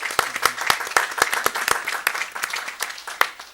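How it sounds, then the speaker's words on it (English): An audience at a school board meeting applauds, with many overlapping hand claps forming a steady, moderately loud patter across the room. "We'd like to applaud you as well for all your hard work and efforts."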